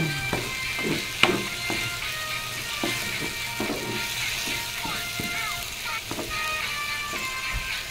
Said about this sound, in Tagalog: Haluin natin ng haluin para ma-mix ang ating mga nilagay na seasoning sa ating dinurog na talong.